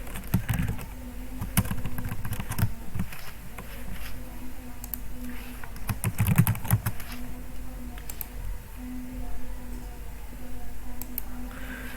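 Steady typing on a computer keyboard while text is entered in Photoshop. The clicks are rapid and close, with brief pauses between runs, and a low background hum sits under them.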